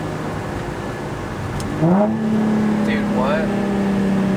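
Nissan 350Z with a dual Tomei exhaust, its engine note climbing sharply and then holding a steady, droning tone, loud and close, while a person says a few words.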